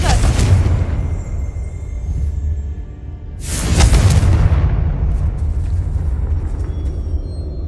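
A Confringo blasting spell from Hogwarts Legacy sends out a fireball that bursts loudly. Two big booming explosions, one at the start and a second about three seconds later, each trail off into rumbling debris.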